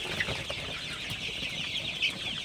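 Several Sonali super hybrid chickens cluck and chirp softly on a poultry farm at night over a steady background hum, with a couple of brighter calls standing out.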